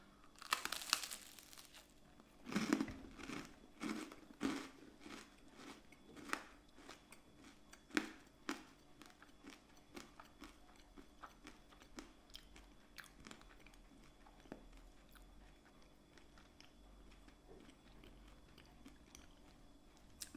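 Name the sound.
biting and chewing crunchy caramel-like spiced medieval treat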